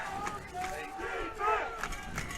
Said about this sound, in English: This is the visiting crowd in front of us yelling defense.